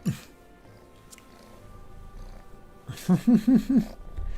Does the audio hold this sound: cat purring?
yes